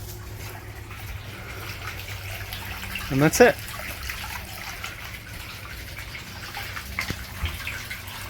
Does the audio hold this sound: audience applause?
no